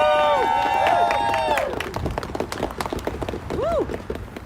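A rally crowd in Washington DC applauds after a speech, with scattered clapping and cheers that rise and thin out quickly, under shouting voices near the start and people talking.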